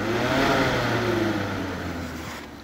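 The radiator fan of a 2006 GMC truck keeps running with the engine off, a loud, close, steady whirring drone that eases slightly toward the end.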